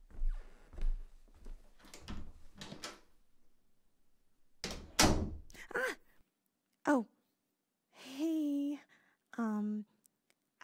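A house door is handled with clicks, a creak and a soft thud as someone lets themselves in, set among quiet breathy voice sounds and pauses.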